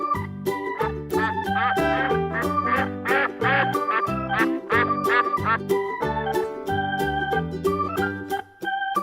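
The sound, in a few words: duck quacking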